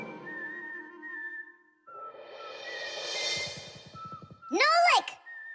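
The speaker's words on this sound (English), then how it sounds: "Just whistling a tune." A brief whistled melody with sliding pitches, loud and close, amid a busy cartoon-like soundtrack with music and effects.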